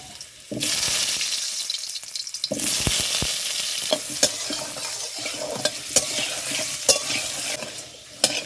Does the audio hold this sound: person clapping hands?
no